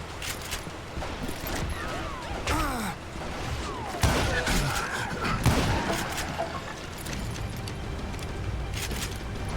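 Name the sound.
rifle shots in video game Call of Juarez: Gunslinger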